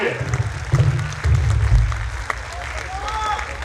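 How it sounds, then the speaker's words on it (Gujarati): Audience clapping at a credit cooperative society's annual general meeting with a musical night, a moderate patter of applause mixed with crowd murmur and a little chatter, fading somewhat toward the end. "તો એકવાર જોરદાર તાળીઓથી મને જવાબ જોઈએ"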